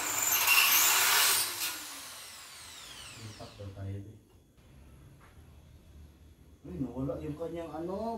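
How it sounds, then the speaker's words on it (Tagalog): A power drill whines loudly at first as its bit struggles against cement, then winds down and stops, followed by someone talking. "Kahit anong gawin ko, hindi na kayang i-penetrate ng drill bit ang semento."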